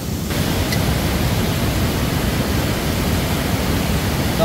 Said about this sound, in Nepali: यसरी खोलाको आवाज